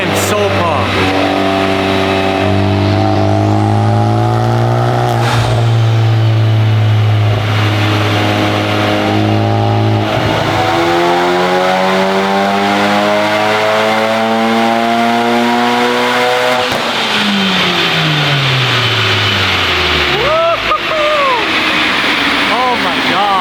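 A Honda Civic Type R engine, running on 91 pump gas, revs loudly and repeatedly through rising and falling sweeps, close by, with excited voices talking over it.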